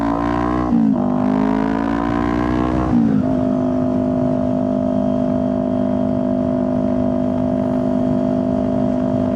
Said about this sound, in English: I'll just go into neutral, and then I just rev the crap out of my bike and actually don't go anywhere